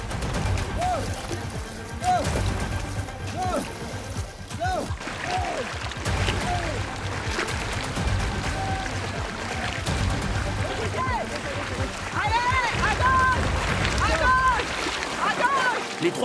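Three yellow-team rowers paddle a pirogue on a raft-race survival challenge, steady water splashes and paddle strokes running throughout under wind and loud voices shouting and commentating.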